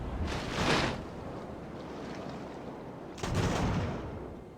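Two heavy booming blasts of cannon broadside fire in the naval game Ultimate Admiral: Age of Sail, one near the start and another a few seconds later, each rolling out over a steady windy, watery background.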